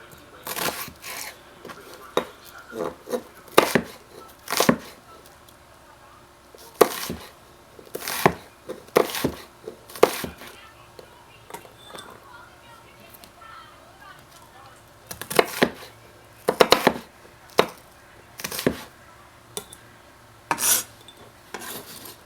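A knife chops onion on a cutting board in quiet, irregular clusters of crisp, close strikes separated by short pauses.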